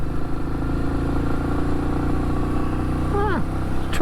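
Royal Enfield Meteor 350 motorcycle cruising on the Bromsgrove Highway in top gear, its steady mid-pitched engine drone and road rumble continuous and close, with a brief falling tonal whine near the end.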